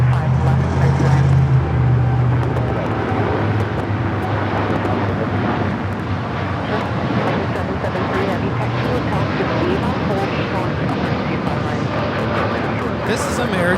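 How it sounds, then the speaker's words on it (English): An American Airlines Boeing 787-8 Dreamliner taking off from runway 25 left at LAX, a loud, broad, continuous engine roar over about fourteen seconds, heard under a person talking and tower radio chatter. "3255 taking off to Miami, Florida on the 787-8 Dreamliner"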